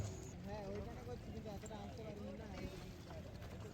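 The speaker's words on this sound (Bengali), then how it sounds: "এখন আমরা বোটে করে সঙ্গমে যাচ্ছি" A boat carries passengers across the river toward the Triveni Sangam at the Maha Kumbh Mela 2025 in Prayagraj, with a steady low engine drone and water wash running throughout, voices chattering beneath.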